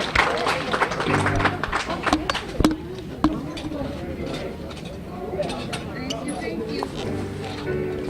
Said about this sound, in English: To give these folks another big round of applause